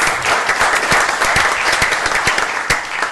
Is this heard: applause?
yes